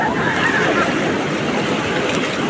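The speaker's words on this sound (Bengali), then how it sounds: "সমুদ্র জল।" Sea waves wash onto the beach at Puri in a loud, continuous roar of surf and wind that fills the whole stretch, with no clear voices.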